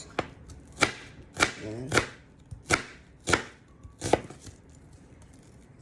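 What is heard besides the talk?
chopping onions with a knife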